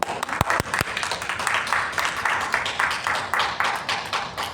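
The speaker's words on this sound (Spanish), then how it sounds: "Démosle un aplauso al Señor." Congregation at a church service applauding, a fairly close and steady patter of many hands clapping with a few sharp individual claps at the start.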